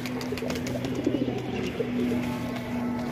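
Racer Giribaz pigeons coo steadily in a loft, with soft repeated murmuring calls layered together against a low, continuous background hum.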